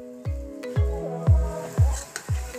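Soy sauce poured into a sizzling sauté of garlic, onion and toasted tomato paste for Filipino beef mechado; a series of about five sharp hissing bursts over a steady frying crackle, close and fairly loud, with no talk.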